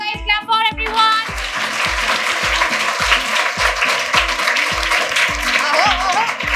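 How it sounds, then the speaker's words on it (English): Audience clapping for all the student batches at a felicitation ceremony, a busy texture of hand claps over loud, rhythmic thumping music with a steady beat throughout. "Clap for everyone."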